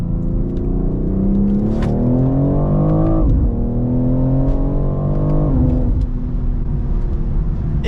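A custom-tuned inline-six SUV pulls hard from a rolling start, its engine note climbing loud and close through two gear pulls, each rising drone dropping sharply at the shift before building again.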